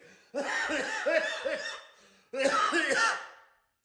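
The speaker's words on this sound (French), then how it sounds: "Oh là là, j'en tousse." A few harsh coughs with a laughing, throaty quality, then a second burst of coughing after a short pause, close and fairly loud.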